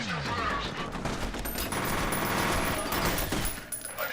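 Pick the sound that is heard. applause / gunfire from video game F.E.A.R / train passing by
gunfire from video game F.E.A.R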